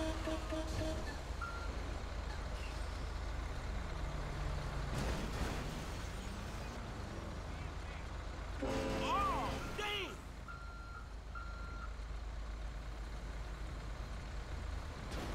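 A truck pulls up in the GTA V traffic of Liberty City, with a rumbling engine, a whoosh of air brakes and intermittent reversing beeps over steady traffic noise, mid-distance and fairly loud.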